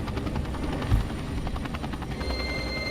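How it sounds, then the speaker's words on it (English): A helicopter in the video game Max Payne 3 gives a loud, continuous rotor thump and engine whine. It holds steady throughout with no voices over it. "Helicopter."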